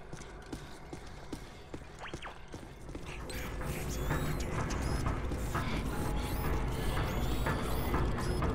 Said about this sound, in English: It's an orrery, a device typically used for predicting planetary alignment.